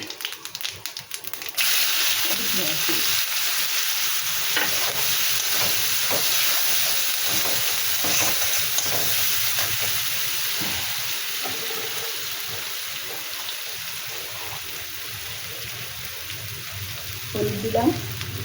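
Chili and whole cumin seeds sizzle and spit in hot oil in a pan while a fish curry with mixed vegetables is being cooked, a steady close frying hiss that runs almost unbroken with brief crackles near the end.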